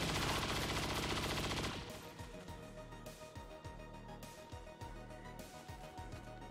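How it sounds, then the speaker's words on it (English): A plasma grenade goes off in XCOM 2: a loud, dense blast opens the clip, then a train of sharp crackling pops and thuds continues as the explosion trails away. "Still plasma grenade."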